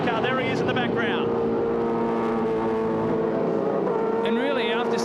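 V8 touring race cars roar around Hidden Valley Raceway in a 1999 Shell Championship race. Engine notes rise and fall as cars pass, with louder sweeps near the start and end, under continuous commentary.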